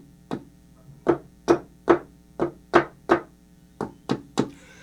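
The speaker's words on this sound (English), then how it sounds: "If you really bang on the keys, which I don't recommend, there's like a knock to the Roland." Knocking thuds from hard-struck keys on a Roland FP-10 digital piano, about ten sharp, evenly spaced knocks close up, heard alone over a low hum.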